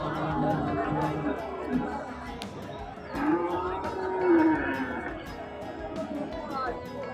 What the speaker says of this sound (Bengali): হাটে কত গরু